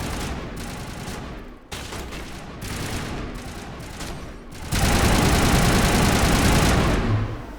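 Sustained gunfire and crossfire in a Mass Effect 1 battle on Virmire, with long-range turrets joining in: dense, rumbling volleys that swell louder and heavier in the second half, with no speech.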